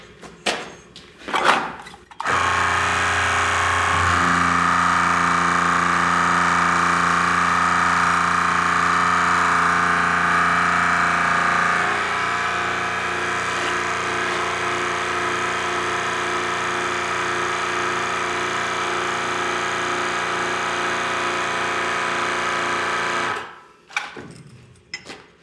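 A manual pipe bender with a modified die working 1.25 inch tubing, a long continuous mechanical groan and hum that holds for about twenty seconds, shifting pitch partway through, then stops with a few clunks at either end.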